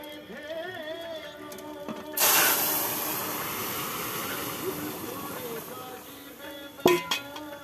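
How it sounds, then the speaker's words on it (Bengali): Dal hisses and sizzles sharply as it is tempered in a home kitchen, a sudden loud burst that settles into steady frying noise, with a voice speaking before it and a brief clatter near the end. "দিদা এখন ডাল রান্না করছে ডালটা এখন সম্বাদ দেবে"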